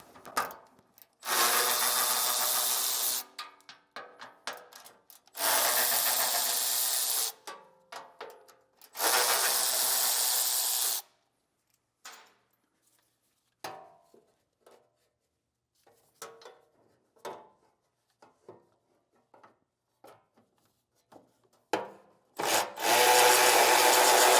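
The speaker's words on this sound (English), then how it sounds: "So I'm going to be using a 10mm socket, and we'll get these all removed." Battery-powered ratchet with a 10mm socket taking screws off a vehicle's rear cross member, several loud bursts of whirring and rasping separated by quiet pauses with clicks and rattles.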